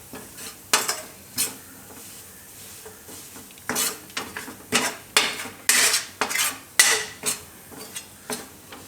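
Flour being roasted with garlic, ginger and chilli in a pan for stuffed ridge gourd curry, sounding as repeated metal scraping and clinking strokes over a light sizzle, close and fairly loud, no voices.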